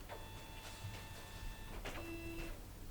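Samsung SCX-4729FW mono laser printer waking from sleep mode and printing, a steady mechanical whir with tonal motor whine and a few clunks from the paper feed, heard up close without talk.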